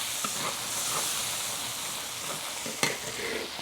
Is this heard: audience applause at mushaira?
no